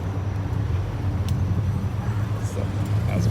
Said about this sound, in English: GT86 rolling by